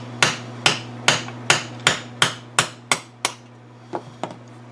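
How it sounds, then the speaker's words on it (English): A hammer taps a rifle's front sight sideways out of its dovetail, about ten sharp metallic knocks in a steady rhythm, then a short pause and two lighter taps, close and loud. "Tap your front sight out."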